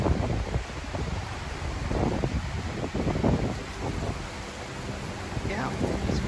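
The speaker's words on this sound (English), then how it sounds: "It is incredibly windy today." Strong, steady wind buffets the microphone on a trail leading out to the ocean on the Outer Banks, a loud continuous roar with gusty swells throughout.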